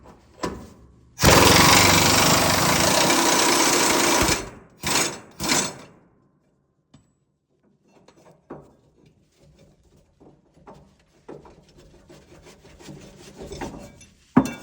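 A pneumatic air gun frees rusted parts in a shop, letting out one long, loud, harsh burst of about three seconds, then a few short bursts. After that come scattered faint clanks and handling noises.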